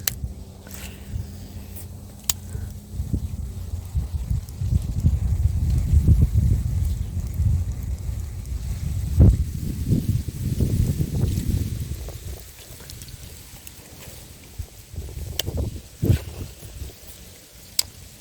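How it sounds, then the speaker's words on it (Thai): Strong wind buffets the microphone outdoors beside water during snakehead fishing, a low rumbling roar that swells and gusts unevenly throughout, with occasional faint ticks and splashes. "ลมกระแรงนะครับผม"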